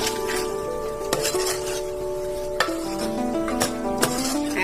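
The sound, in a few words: mixing spices into misal gravy in a pot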